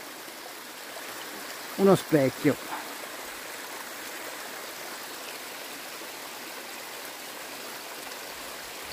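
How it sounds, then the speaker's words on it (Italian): A forest stream in the Valdinievole woods, seemingly running beneath a sheet of ice after recent snow, gives a steady soft rushing hiss throughout, while a person speaks briefly near the start. "Guardate bello come scorre l'acqua da lassù"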